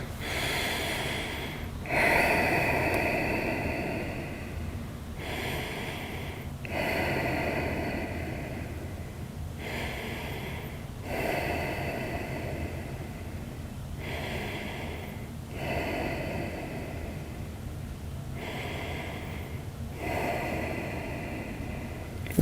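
Slow, deep breaths held through a lizard stretch, each long inhale and exhale audible and close, repeating about every two and a half seconds in a quiet room with no talk.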